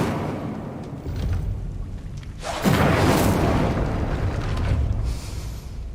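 An Incendio fire spell cast in the Hogwarts Legacy video game erupts as a loud whooshing burst with a roaring rumble, rising from a low background and swelling to its peak a few seconds in.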